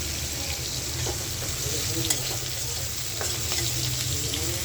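Fried prawns sizzle in a pan as ginger is added, a dense, continuous close-up frying hiss dotted with light clicks and scrapes of stirring.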